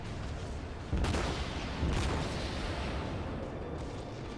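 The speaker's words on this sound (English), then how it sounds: "Concentrate fire on the designated target. Heavy guns." Heavy naval guns fire in a warship video game, with two booming salvos about a second apart over a dense rumbling battle din.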